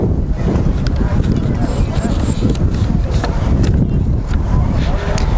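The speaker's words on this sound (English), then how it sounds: "A little windy up here in Central today." Wind gusts across the press area at the 2019 Central Regional vs Lacey alumni football game, battering the microphone with a loud, steady rumble beneath a commentator's voice.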